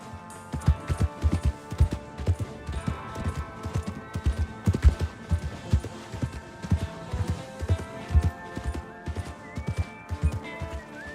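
A horse gallops in Red Dead Online, hooves pounding in a fast, steady rhythm up close, with a brief whinny and a faint tonal game backdrop.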